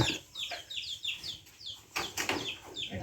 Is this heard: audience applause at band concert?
no